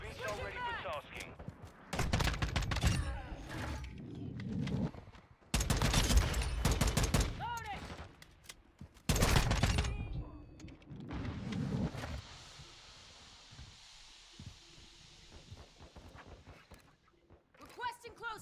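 Rapid gunfire bursts from an FTAC Recon rifle in the shooter game Call of Duty: Modern Warfare 2, loud, repeated volleys separated by quieter gaps, with in-game radio chatter and a player's voice in between.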